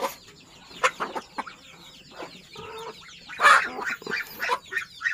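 Free-range village hen clucking while pecking at papaya, a run of short, scattered clucks and soft calls at close range, with a louder burst midway and no talk.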